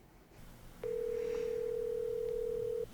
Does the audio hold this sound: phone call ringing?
yes